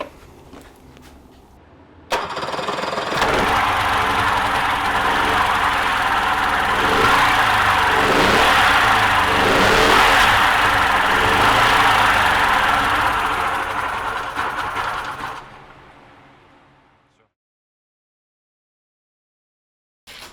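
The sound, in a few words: Tohatsu 50 outboard boat motor running without gearbox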